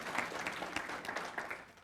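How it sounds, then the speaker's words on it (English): Audience applause at a city mayor's arts awards ceremony, a brief, steady patter of many hands clapping in a hall, fairly faint. "give everyone a round of applause"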